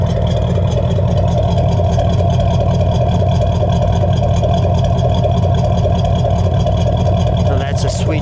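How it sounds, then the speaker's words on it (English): A 1971 Plymouth Cuda with a 383 engine idling, a steady, loud, low rumble that holds even for several seconds, with a brief higher noise near the end. "Let me listen to that idle."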